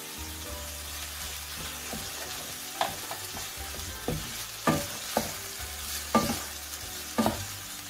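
Onions and crushed green chilies fry in a pan with a steady sizzle, broken by several clattering strokes of a spoon stirring, close and clear.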